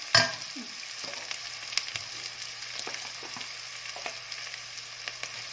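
Vegetables stir-frying in a pan, a quiet steady sizzle with an initial loud clatter and scattered light scrapes and taps of stirring, no voices.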